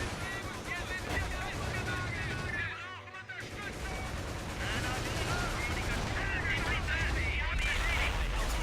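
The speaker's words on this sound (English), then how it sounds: "Anti-tank guns quickly destroying my Puma. My mortar trying to hit those HMG guys." Anti-tank guns and mortar fire crack and boom continuously in a strategy war game, a dense barrage of gunshots and explosions with a brief lull near the middle, loud and close throughout.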